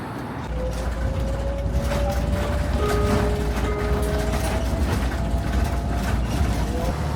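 A city bus pulls up to a stop and idles, its steady low engine rumble continuous and fairly loud, with faint mechanical whines and clanks over street background.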